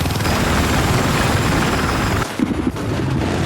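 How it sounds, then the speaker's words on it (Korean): Scout helicopter in Battlefield 4, a loud, dense rotor and engine roar filling the scene, cutting off abruptly before quieter game noise follows. "지금 상대 정찰 헬기인가요?"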